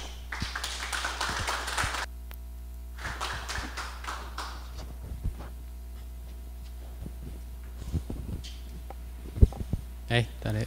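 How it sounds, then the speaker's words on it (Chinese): An audience at a law lecture class in Taiwan applauds to welcome the lecturer. Two short bursts of faint, scattered clapping sound in a hall over a steady low hum, followed by a few isolated taps. "请大家热烈掌声欢迎"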